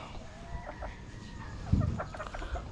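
Chickens cluck softly in a yard near where a sick bird is being tended and dosed with probiotics, several short calls rising over low background noise, with one louder close burst near the end.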